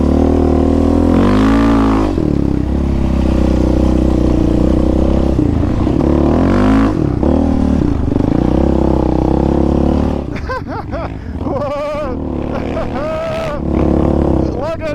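A Yamaha Raptor 700 ATV rides with its engine loud and close, revving up and down in rough surges, while a rider talks over it.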